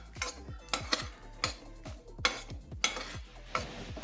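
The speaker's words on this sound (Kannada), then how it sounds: "ಇದನ್ನು ಲೈಟಾಗಿ ಫ್ರೈ ಮಾಡ್ಕೊಳ್ಳೋಣ" Spoon scraping and clinking against a pan as coriander, cumin, urad dal and chana dal are stirred while lightly frying, about nine regular sharp clatters over a faint sizzle, close and fairly loud, no talk.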